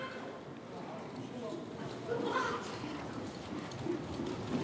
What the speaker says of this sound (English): I felt like I was an infantryman with these horses bearing down on me.